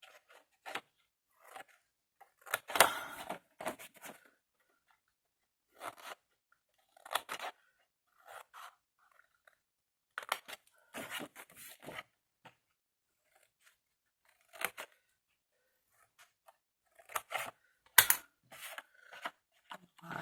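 Scissors snip the corners off pieces of scrapbooking paper for a jewelry box: irregular bursts of short, crisp cuts spread across the stretch with quiet gaps between, close and clear with no talking.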